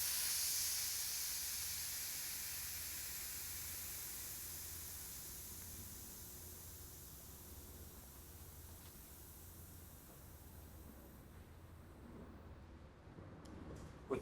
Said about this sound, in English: use the corner of it to deflate the inner tube from the valve